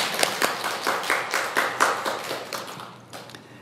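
A congregation at Jeju Bansuk Church's Sunday morning service claps in blessing for a visiting baby, a quick run of sharp hand claps that stays fairly close and crisp before tapering off.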